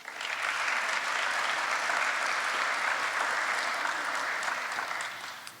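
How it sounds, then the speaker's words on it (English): Steady, full applause from a large audience at a school district State of the District address, sustained for several seconds without talk. "Please give yourselves a round of applause."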